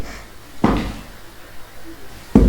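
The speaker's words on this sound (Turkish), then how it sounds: "Kapat kapıyı. Kapıyı kapat." A door is pushed shut twice, two dull thuds a couple of seconds apart against a quiet room with faint background sound.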